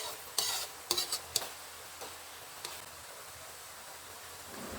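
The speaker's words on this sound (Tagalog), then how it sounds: "haluin nyo lang ito ng mabuti para hindi magbuo-buo yung gata" A utensil scrapes and knocks against a pot while boiling coconut milk is stirred, with several sharp clicks early on over a soft, steady bubbling hiss.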